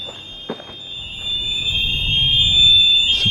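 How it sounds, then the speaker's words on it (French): Electronic alarms ring inside an abandoned Olympic stadium from the 2004 Games, making a continuous high-pitched shrill tone. It stays steady throughout and sounds loud and reverberant, with faint scattered knocks underneath. "Toutes les alarmes, c'est à l'intérieur."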